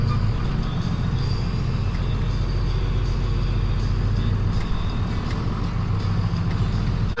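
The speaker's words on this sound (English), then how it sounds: "A minute to help me with this tractor." A farm tractor engine runs steadily after starting up and pulling out of a shed on a slick day, a loud continuous low rumble close by with no break for the whole stretch.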